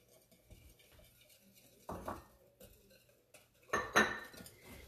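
Six egg yolks and a cup of sugar being whisked in a bowl: quiet, scattered scrapes and a few sharper utensil-on-bowl clinks, with near silence between bursts.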